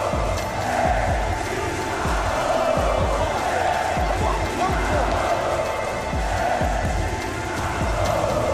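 A packed esports arena crowd roars loudly and continuously at the Six Invitational 2024 finals, with rhythmic thumping stomps or claps pulsing through the cheering.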